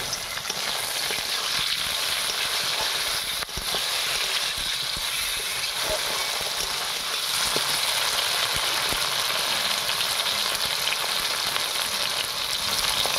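Thin tomato slices hit hot oil in a frying pan, producing a loud, steady, dense sizzle that holds without pause, close and alone with no talk.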